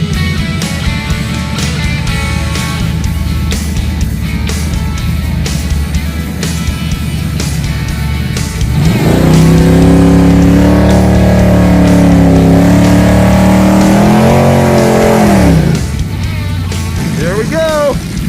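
Crew cab Chevelle on nitrous idling with a loud, steady engine rumble near a drag strip staging area, then a rise in revs as it pulls up to stage, with talk over the engine.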